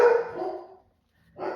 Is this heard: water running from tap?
no